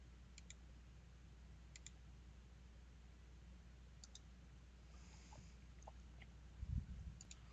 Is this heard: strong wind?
no